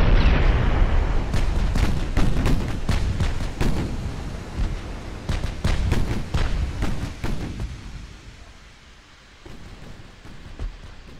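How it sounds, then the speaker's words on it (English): Naval battleship guns firing in Ultimate Admiral: Dreadnoughts, 18-inch and 14-inch guns, a loud rapid barrage of booming blasts in clusters that thins out and fades to distant rumble, then a few final thuds. "the 18s and 14s are all going to fire at once this time"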